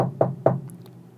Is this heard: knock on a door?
yes